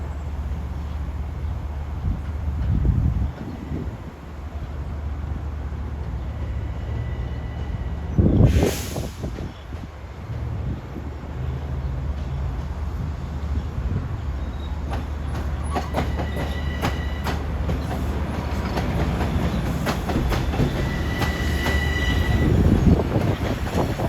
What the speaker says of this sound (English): Should have the Flying Yankee if you didn't take the day off. One of the fastest trains on the railroad, this is.